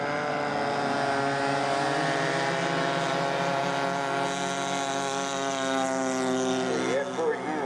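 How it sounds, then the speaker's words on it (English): A scale model Corsair aircraft takes off at a scale aircraft show. Its engine holds a loud, steady, harmonic drone that stays close for the whole stretch, with a slight rise and wobble in pitch near the end. "Corsair. Brian is into position. Beginning takeoff."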